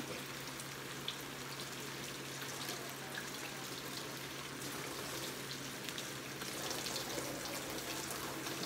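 Water runs steadily from a kitchen tap over cherry tomatoes being rinsed, a constant close splashing hiss with small patters and drips, no talking.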